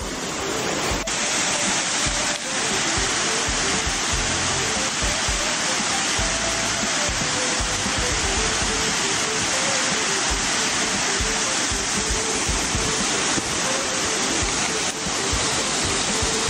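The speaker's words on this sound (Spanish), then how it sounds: "ahora le voy a dar allá a las cascadas que están tan caudalosas como aquel entonces" Fast-flowing waterfalls on a river in the Cuban mountains roar in a loud, steady, broadband rush that stays unbroken from start to finish.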